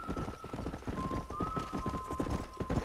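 Horse hooves clip-clop at a steady gallop in the video game Red Dead Redemption, a close, rhythmic run of thudding beats with a faint whinny-like tone drifting through.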